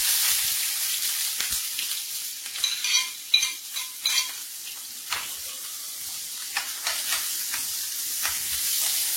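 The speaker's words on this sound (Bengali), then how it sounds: "প্যানে তেল দিয়ে দিয়েছি, পেঁয়াজ রসুন কুচি দিয়ে দেব।" Chopped onion and garlic frying in oil in a pan, a steady soft sizzle with scattered stirring scrapes and clinks of a utensil, close and moderately quiet, no voices.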